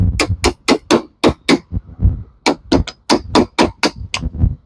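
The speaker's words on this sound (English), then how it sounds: "So just start trimming this in so I can make my mortise and tenon joints." A chisel is driven into log wood to cut mortise and tenon joints, producing about fifteen loud, close, sharp strikes in a fairly steady rhythm with brief pauses between them.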